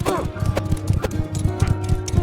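Horses gallop into battle in Mount & Blade Bannerlord, a dense, rapid clatter of hoofbeats under a busy, loud mix of combat noise, with a brief whinny near the start.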